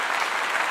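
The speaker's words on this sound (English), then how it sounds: "as I give brother Black Man Unfiltered another clap," A brief, dense burst of crowd applause plays as a short sound effect, loud and continuous.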